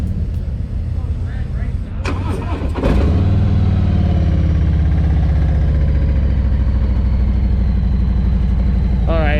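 A 2021 Harley-Davidson Road Glide Limited motorcycle starts up after a brief crank, then settles into a loud, steady, close idle with a deep rumble. A rider speaks briefly beforehand.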